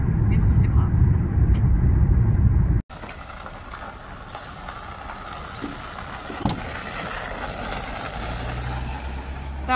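A car drives along a frosty winter road at minus 17, a steady low rumble of engine and tyres that is loud at first, then drops to a quieter, continuous cabin drone with faint creaks.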